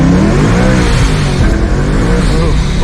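A supercharged Ford Mustang launches hard in first gear with its wheels spinning, the engine roaring loud and close in a rising, wavering howl, with a voice talking over it.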